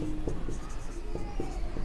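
Pen or chalk writing during a Hindi Class 10 maths lesson on circle areas, heard as short scratchy strokes in a steady rhythm close by, with faint background hum and no clear talk.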